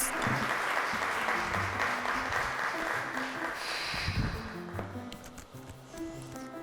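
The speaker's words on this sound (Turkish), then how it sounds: "Her iki masamızda alkışlıyoruz." Studio audience applause for both tables at a quiz show, loud sustained clapping that fades toward the end as a music sting begins underneath.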